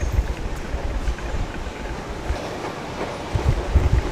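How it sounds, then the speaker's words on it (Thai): A Bangkok Red Line electric train gives a steady, loud rumble with clattering wheels and airy rushing noise, heard up close and without talk throughout. "ตอนนี้ผมก็จะไปขึ้น รถไฟฟ้าด้านบนนะครับ"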